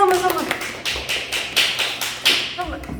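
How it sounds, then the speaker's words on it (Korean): A small group of children and adults clap in bursts at a church kids' class event, about eight sharp hand claps in an uneven rhythm, close and fairly loud, with voices chattering between them. "박수"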